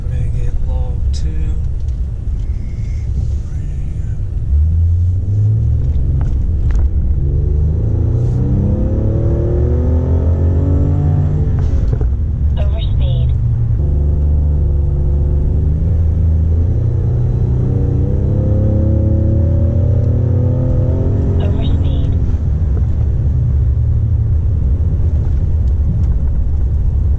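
A 2020 Ford Raptor's twin-turbo engine with a stock blow-off valve and a front-mount intercooler revs up in two long rising sweeps, turbos spooling, over a loud, steady rumble.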